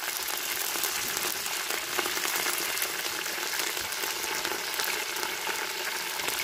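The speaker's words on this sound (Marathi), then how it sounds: "कांदो थोडंफार भाजलेलो असा, तर आपण आता कढीपत्तो आणि तमालपत्राची पानं टाकतो।" Curry leaves and bay leaves drop into onions frying in oil for a Malvani village-chicken curry, giving a steady, loud, crackling sizzle throughout with no talk.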